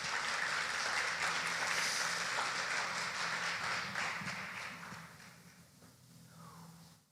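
A church congregation claps together for several seconds, a steady wash of applause that gradually thins and fades toward the end.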